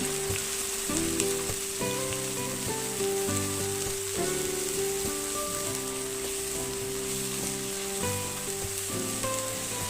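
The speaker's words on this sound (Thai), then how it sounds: "หลังจากนั้นก็กวาดพริกแกงลงไปผัดไปคั่วให้มันหอมม" Curry paste stir-fries in hot oil in a wok for a northern Thai banana-blossom dish, giving a steady hiss of sizzling beneath prominent background music with sustained melodic tones, close and continuous, no talking.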